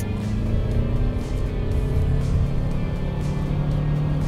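Toyota RAV4 Hybrid in Sport mode at full throttle, a loud, continuous engine drone with steady road and wind noise heard from inside the cabin.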